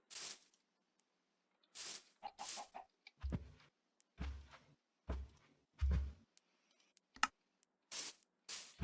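Chickens in the Minecraft video game cluck in short, separate bursts, several in sequence, some overlapping with footsteps and block sounds, with no one talking.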